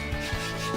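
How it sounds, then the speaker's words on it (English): A pizza wheel rolls along the edges of rolled-out pasta dough, giving a soft, close rubbing scrape with faint low bumps, steady and quiet over just under a second with no talking. "I find the easiest thing is a pizza wheel. And then you can just run along, trim those edges up,"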